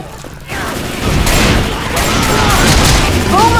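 Dense, sustained gunfire from Left 4 Dead 2 rattles continuously in a loud, overlapping barrage after a brief quieter start, with some faint voice chatter mixed in.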